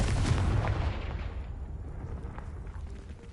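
The Confringo blasting spell detonating in Hogwarts Legacy: a booming burst already under way, fading through a rolling rumble and settling debris over a few seconds, with no talk.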